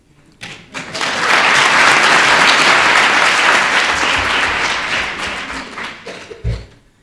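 Sustained audience applause at a ceremony honoring a diplomat in Senegal, loud and dense clapping swelling quickly, holding steady for several seconds, then thinning into scattered claps and a few thumps near the end.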